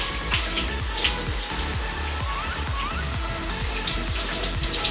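Water pours steadily from a tap while hair is rinsed on wash day, a continuous close splashing rush with gurgling under it and no speech.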